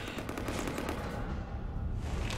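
Rapid automatic gunfire raking a ship in Mass Effect 3, a dense, continuous burst of loud shots close by that runs without pause.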